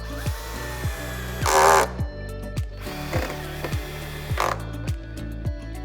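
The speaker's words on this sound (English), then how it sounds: "So we've changed our bit over from the security screw to the PZ2. Literally, screw in position, make sure it's lined up." A power driver with a PZ2 bit drives screws down into an eaves beam of a roof lantern: sharp rhythmic clicks and ticks, broken by two short bursts of whirring as screws bite home, close by and without talk.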